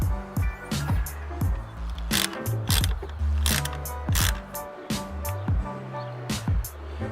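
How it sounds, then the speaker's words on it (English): A ratchet wrench clicks in rapid bursts while the battery of a Subaru BRZ is disconnected, with close metallic ratcheting and a few clunks, loud and up close. "We have to go disconnect the battery"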